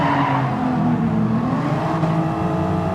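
Race car tires spinning and squealing at a grid start in Gran Turismo 7, with loud engines revving close by in a continuous roar.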